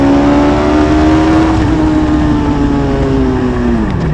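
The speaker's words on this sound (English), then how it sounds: "Very on-off throttle on this car, guys." A Hayabusa-powered race car engine drones loud and close, holding a high steady tone with strong harmonics that sags gradually, then drops off as the throttle lifts near the end.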